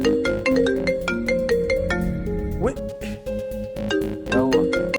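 A phone ringtone plays loudly and close by as a repeating electronic melody, with a few short breaks, in a comedy sketch scene.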